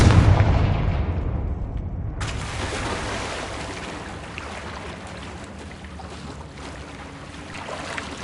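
A Confringo fire spell explodes in Hogwarts Legacy, a loud blast followed by a second sharp burst and a long rumbling decay, with no voices.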